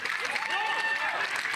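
Light applause from the crowd at a professional pickleball tour finals match, a steady spread of clapping lasting throughout, with a faint voice or whistle-like tone riding over it.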